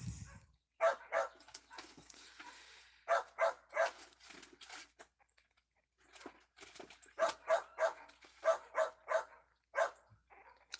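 Country dogs bark outdoors, a neighbour's dog and a second dog joining in, in clustered bursts of sharp barks and yips separated by short quiet gaps, fairly close and loud.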